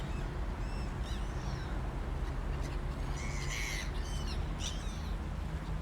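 Gulls squawk in several short bursts, mostly midway through, over a steady low ambient rumble, at a beach in the video game Tourist Bus Simulator.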